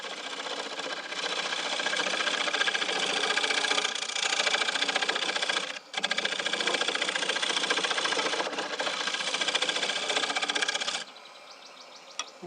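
A wooden bowl spins on a woodturning lathe and is cut with a scraper or bowl gouge, giving a loud steady buzzing whir. It has a brief dip near the middle and then drops to a quieter hum at the end.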